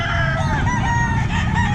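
Chickens at a busy pet market in Calumpit, a dense overlapping chorus of clucking and rooster crowing that carries on steadily throughout, close and fairly loud over general market noise.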